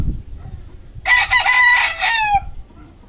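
A ten-month-old Gilmore Sweater bloodline fighting rooster crows once, close and loud, after a moment of faint low clucking and rustle.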